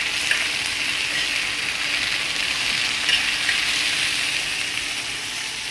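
Food frying in hot oil for a simple bachelor-style meal, a steady loud hiss and crackle of sizzling that runs continuously with no talk over it.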